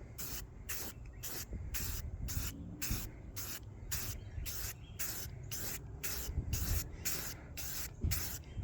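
Rust-Oleum spray paint hissing from an aerosol can onto an old CRT monitor casing in rapid, evenly spaced bursts, roughly two per second, close and steady with no talking.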